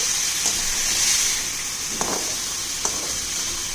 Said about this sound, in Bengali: আমি জাস্ট একটু ফ্রাই করে কাঁচা গন্ধটা যাতে চলে যায়, তার জন্য হাই ফ্লেমে আমি এটাকে